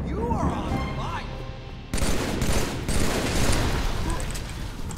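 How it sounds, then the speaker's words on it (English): Brute Shot grenade launcher firing in Halo 3 gameplay, a burst of heavy explosive blasts and crashes following brief game chatter, with loud repeated impacts dense in the second half. "That is actually a brute shot."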